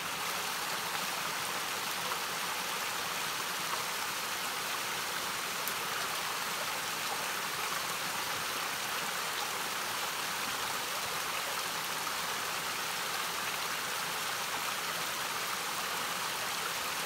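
Mountain creek water flows steadily along the Appalachian Trail, a constant broadband rush close by, with no voices and no pauses.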